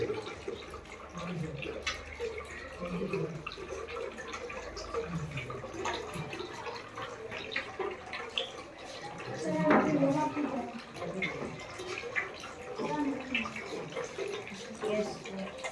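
Water flowing from a pipe fed by a raised tank, a steady splashing gush with dripping and trickling, while someone talks throughout.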